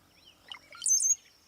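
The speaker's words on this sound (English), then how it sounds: "But it's this cowbird." A cowbird gives a call like electronic water droplets: a quick burst of high, liquid, bubbling notes in the middle, with a louder sliding whistle near the end. It sounds faint and somewhat distant, with no voices.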